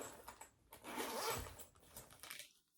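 A zipper drawn open on a travel makeup bag, one close, quiet, continuous ratcheting pull lasting a couple of seconds, then silence.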